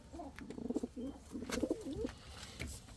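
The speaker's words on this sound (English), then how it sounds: "Got this beautiful pigeon, and as usual this little pretty one here." An Indian fantail pigeon cooing in a breeding loft: a few soft, throaty coos in a short rolling phrase, close and clear over light background noise.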